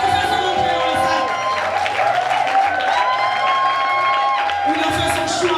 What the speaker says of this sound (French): On applaudit s'il vous plaît pour notre façon d'entrer en salle.